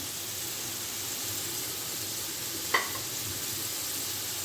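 Taro root (arbi) frying in oil in a pan over medium heat, a soft, even sizzle throughout with one sharp spoon tap partway through.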